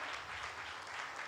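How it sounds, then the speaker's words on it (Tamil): A church congregation claps together during a Sunday service, a brief, fairly faint burst of many hands applauding at an even level with no voices on top. "கைத்தட்டுங்க பார்க்கலாம்."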